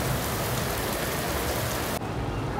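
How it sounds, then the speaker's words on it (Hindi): Steady heavy rain falls outside a home, a dense continuous hiss that drops slightly near the end. "बारिश हो रही है"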